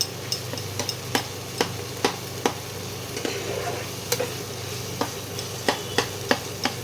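Spice paste with sugar is fried for a poppy-seed kohlrabi curry, a soft sizzle running underneath as a spoon strikes and scrapes the pan in sharp, irregular knocks every half second or so.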